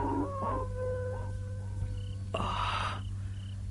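Faint, drawn-out howls of wild dogs at a distance, rising and wavering over a low steady hum, followed by a brief harsher cry.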